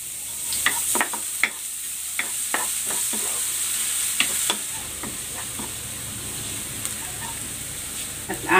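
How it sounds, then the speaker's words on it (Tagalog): Ginger and garlic sauté in oil in a pan with a steady sizzle, while a utensil stirs and scrapes in repeated sharp clicks throughout. "Magigisa na ako ng luya. Ilalagay ko na rin tong bawang."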